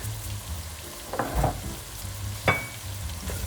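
Ajapsandal vegetables fry in a pan as spices are stirred in, giving a soft continuous sizzle broken by a few scraping stirs and one sharper clink, close by.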